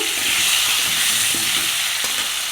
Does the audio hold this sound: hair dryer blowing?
no